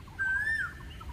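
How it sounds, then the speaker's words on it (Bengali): A koel calls once outdoors, a single clear rising-then-level whistled note of moderate loudness, alone over a quiet background. "কি সুন্দর কোকিলের ডাক"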